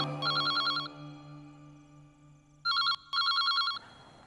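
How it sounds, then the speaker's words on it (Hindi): An old-style telephone rings in two trilling bursts, near and loud, over a low sustained background tone, with a brief pause between rings. "इस बार आप फोन उठाएंगे।"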